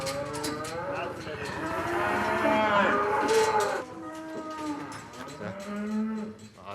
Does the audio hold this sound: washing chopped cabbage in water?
no